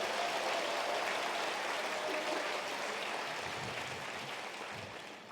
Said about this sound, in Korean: 그래서 다시 한번 박선준 조합원님께 박수 부탁드리겠습니다